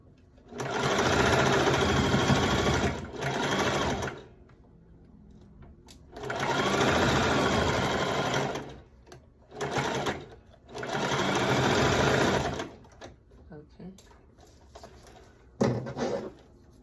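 Sewing machine stitching a two-toned velvet sequin skirt runs in several loud, close bursts of rapid whirring, separated by pauses with faint handling noises and a sharp click near the end.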